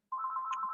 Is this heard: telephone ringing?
yes